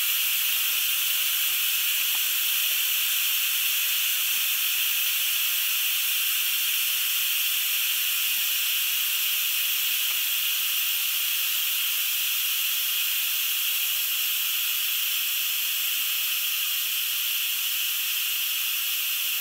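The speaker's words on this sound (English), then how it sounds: "Got lots of steam in there this time." Steam hisses steadily from an Instant Pot during pressure release, a loud continuous rush that holds unchanged throughout with no talking.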